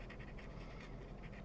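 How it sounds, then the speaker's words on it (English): A big dog lies asleep in hot weather, panting steadily in quick rhythmic breaths with a soft snoring rasp, close and continuous throughout. "That's my big dog. She's snoring."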